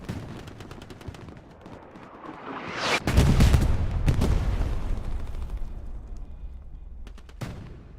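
Bursts of MG42 machine gun fire in Hell Let Loose, loud and close, with rapid repeated shots and a heavier blast around the middle, then a trailing rumble and scattered later shots, with no talk.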